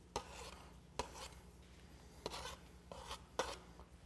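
Pie dough in a pie dish scraped from top to bottom, probably for a walnut pie: soft, faint scraping strokes come in four or five separate bursts against a quiet background.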